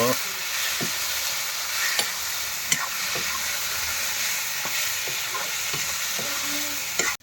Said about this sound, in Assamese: এতিয়া মাংসটো ভাজি আছোঁ মই, গাহৰি মাংস